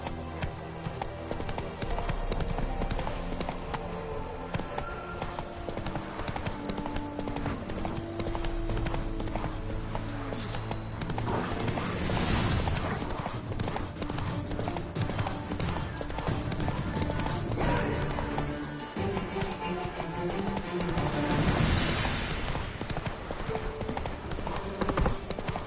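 Hooves of a horse in a video game pound out a fast, steady galloping clip-clop over the whole stretch, loud and continuous against background game sound, with a brief voice calling out.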